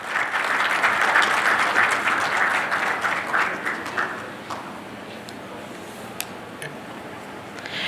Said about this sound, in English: may we give our moderator and speaker of session 2 a warm round of applause